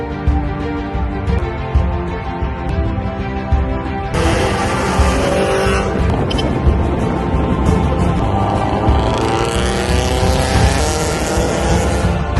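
A bagged, air-suspension Subaru BRZ drives along at low speed, its engine a steady continuous drone that grows broader and rougher partway through, with no talking over it.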